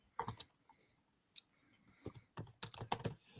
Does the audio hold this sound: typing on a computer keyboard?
yes